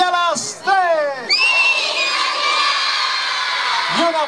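A crowd, many of them children, shouts "Feliz Navidad" loudly in unison and holds the cry, followed by cheering.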